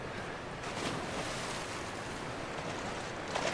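Water swirls and washes continuously around a swimming character in the video game The Last of Us, a dense, even rush of surf-like sound with no pauses.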